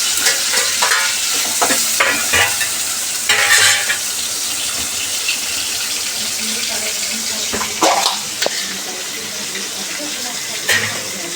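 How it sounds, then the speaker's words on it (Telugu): Tomatoes are frying in a pan with onions and curry leaves for a chicken gravy, giving a steady loud sizzle with intermittent stirring and scraping. "బాగా ఎర్రగడ్డ కరివేపాకు బాగా వేగినాక మళ్ళీ టమాటాలు వేసుకున్నాం"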